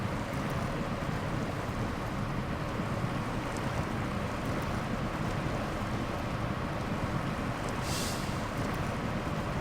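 In SnowRunner, a Caterpillar truck being carried down a river makes a steady, loud rush of flowing water, a broadband roar like surf or wind that stays constant throughout with no voices.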